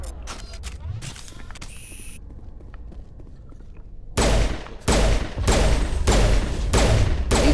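Rapid pistol gunfire from a Mass Effect 1 Legendary Edition firefight, loud bursts of close shots in quick repeated volleys after a quieter stretch of game ambience.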